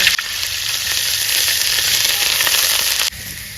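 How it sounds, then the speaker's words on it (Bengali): Sliced onion hits hot oil in a village kitchen pan, bursting into a loud, steady sizzle that holds for about three seconds before abruptly dropping off. "তেল হয়ে গেছে, পেঁয়াজটা দিয়ে দিলাম।"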